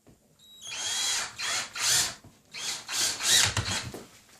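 Power drill driving a screw to fasten drywall, several short whirring bursts close by with brief pauses between them.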